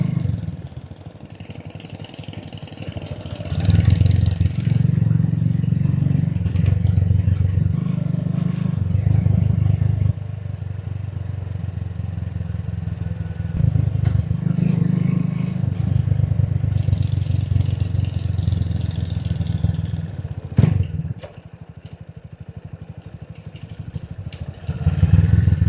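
Motorcycle engine on a road trip in Laguna, Philippines, alternating between a low steady idle and louder revving surges as it rides, close and dominant with occasional clatter and little talk.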